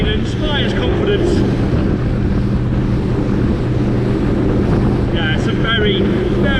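A Saxdor 200 Sport motorboat under way, its outboard engine droning steadily with hull slap and rushing water, loud and close with heavy wind buffeting the microphone throughout.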